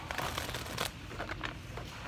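Tarot cards are shuffled in a dense, continuous riffle of papery flicks and slaps, close and steady for about two seconds with no talking.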